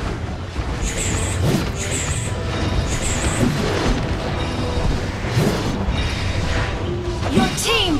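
A turret is destroyed in the Mobile Legends video game, set against dense, loud battle effects: booming crashes and bursts over a constant wash of noise, with short chiming tones recurring throughout.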